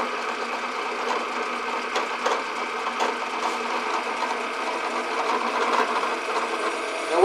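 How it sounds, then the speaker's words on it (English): A drill bores 1/4 inch plug weld holes straight through the end of a steel radius rod, a steady mechanical whir with faint grinding and clicks running close and continuous, with no talking. "Our next step is to drill two plug weld holes."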